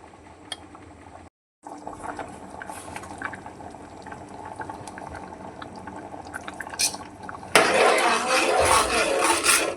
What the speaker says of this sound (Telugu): ఒక 10 మినిట్స్ పప్పును ఇలా ఉడకనివ్వాలి